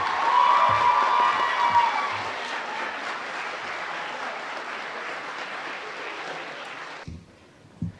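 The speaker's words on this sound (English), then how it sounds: "One more round of applause for our concert orchestra." Audience applause follows a high school concert orchestra's performance, a steady, fairly distant wash of clapping that fades out near the end.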